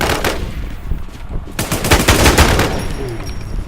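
Rapid automatic gunfire rattles loudly in the Infestation video game, dense bursts of close machine-gun shots over roughly four seconds.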